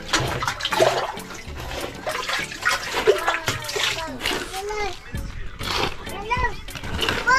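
Water splashes and splatters repeatedly against a concrete post on a house construction site, close by, with people talking over it throughout.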